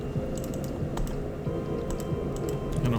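Fingers type on a computer keyboard in a fast, uneven patter of close clicks over a low background hum, with no one speaking.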